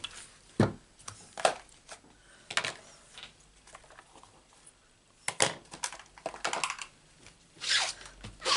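Scissors cutting out a paper mask for card-making, with irregular bursts of close crisp snips and paper rustling separated by quiet gaps.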